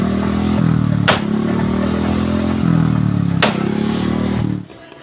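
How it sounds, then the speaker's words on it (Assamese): A Bullet motorcycle revs loudly at a village fair with a steady, heavy engine rumble, broken by two sharp backfire bangs from the silencer before the engine cuts off near the end. "बुलेट की साइलेंसर में आग निकलेगा"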